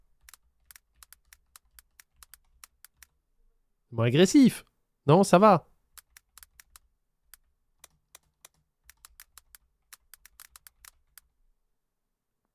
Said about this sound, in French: est-ce que vous préférez le bruit du clavier? Regardez, je retape exprès pour vous.